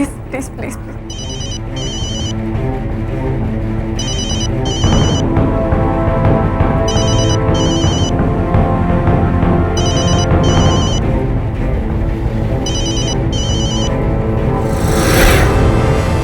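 A phone rings unanswered in repeated double-trill bursts at regular intervals over a dramatic music score, with a voice briefly speaking near the end.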